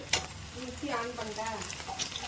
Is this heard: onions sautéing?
yes